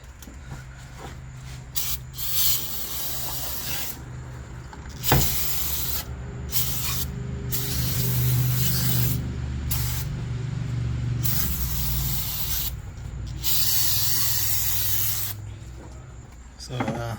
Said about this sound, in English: You just spray it nicely and then dries the place off.